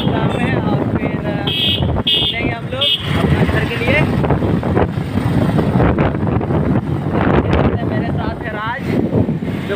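A Bajaj Pulsar 220 motorbike ridden at high speed near a fairground, with heavy wind buffeting and engine rush filling the whole stretch while people talk loudly over it.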